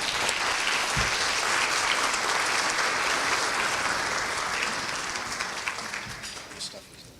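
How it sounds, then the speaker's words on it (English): Audience clapping for a neurology speaker at a medical lecture, a full and steady round of applause from a room of listeners that slowly thins toward the end. "Let's give a round of applause for Dr. Adnan Subei"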